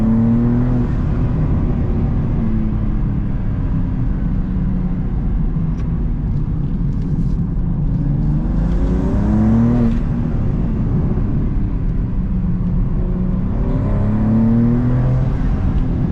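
A 2023 BMW M2 G87 with a manual gearbox accelerating, engine drone rising in pitch through gears with a shift in the middle, heard from inside over steady road roar.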